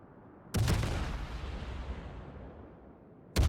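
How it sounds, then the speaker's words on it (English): Warship gun broadsides in the naval combat game World of Warships: a sudden heavy boom rolls into a long fading rumble, followed by another blast at the end. "Now Absolute Justice is getting a few nice broadside shots on this Neptune."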